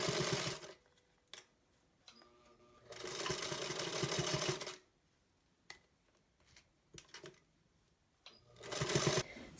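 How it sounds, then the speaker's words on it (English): A sewing machine stitches a homemade fabric face mask in several close, loud bursts of rapid whirring, separated by short quiet pauses and small handling clicks. "All right, we're ready to sew."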